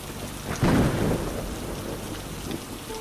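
Rain falls steadily while a rumble of thunder swells and rolls for about a second before fading back into the constant downpour.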